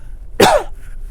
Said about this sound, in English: Oh, the dry air is making me cough.